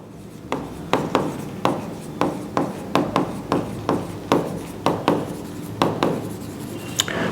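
Chalk or marker strokes on a classroom board during an accountancy lesson, about a dozen short, crisp taps and scratches in an irregular rhythm, close and fairly loud, with no talk.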